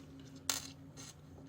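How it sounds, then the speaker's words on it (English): A small screw drops onto a magnetic part with one sharp metallic tick, followed by a fainter, softer rattle about half a second later, close up in a quiet room. "these are actually just magnetic enough that I can drop the screw in on this"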